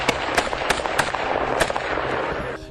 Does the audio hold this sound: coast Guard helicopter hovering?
no